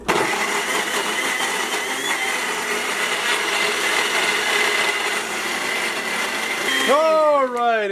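A blender whirs steadily and loudly while making a smoothie, a dense continuous grinding drone for about seven seconds, then cuts off near the end.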